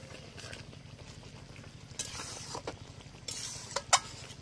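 Meat cooking in a pan with ground garam masala, stirred in a soft, continuous frying patter, with a few brief louder scrapes near the end.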